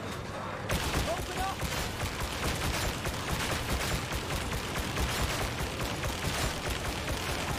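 Heavy sustained gunfire fills a Warhammer shooter video game battle, a dense continuous fusillade of rapid shots and bursts, loud and close, with a brief quieter moment at the very start.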